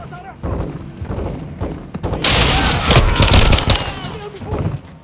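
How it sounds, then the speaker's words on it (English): Rocket fire and explosions in the Modern Warfare 2 campaign, with heavy booming blasts and a dense rumbling barrage close by, mixed with radio voices. "crash site is taking rocket fire from building 2"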